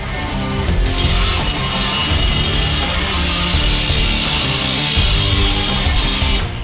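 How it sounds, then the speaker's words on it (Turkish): A Prohummer PH245 cordless grinder and polisher starts after a short pause and then runs loud and steady, giving a continuous close-up whirring grind that does not let up. "Hem polisaj hem de taşlama başlığı takarak da rahatlıkla kullanabilirsiniz."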